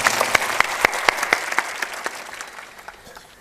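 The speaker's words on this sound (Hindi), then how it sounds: "आपसे मैं कहूँगा कि जोरदार ताली भी बजाना" An audience at a spiritual discourse breaks into applause: a burst of sharp claps, densest at first, then thinning and fading over a few seconds, with no talk over it.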